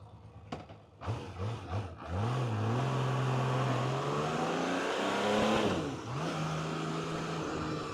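A Honda CBX1000Z six-cylinder superbike engine blips and revs in short bursts before settling into a smooth, fairly quiet, rising and falling run, heard up close with no talking.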